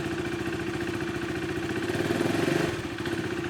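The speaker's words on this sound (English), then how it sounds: "You see how the gear shifts up." A KTM RC 390 motorcycle engine running steadily with a rhythmic mid-pitched thrum that swells briefly as it shifts up a gear, close and alone.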